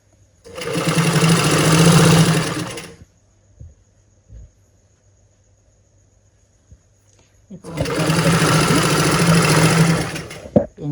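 A sewing machine stitches the folded hem on the leg of a gathered pant in two loud, steady bursts of whirring, each lasting about two to three seconds, with a quiet pause and a few faint clicks and handling taps between them.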